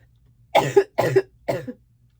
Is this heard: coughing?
yes